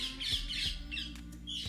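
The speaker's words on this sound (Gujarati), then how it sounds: "આ પોપટ બોલે છે" A parrot squawks repeatedly in harsh, raspy bursts, fairly close, with short gaps and faint knocks between calls.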